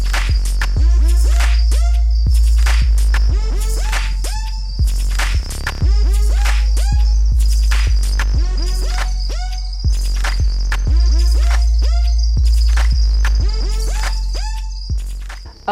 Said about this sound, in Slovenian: Črički imajo do zdaj popis, kolikor znanstveniki so raziskovali, 3 različne napeve.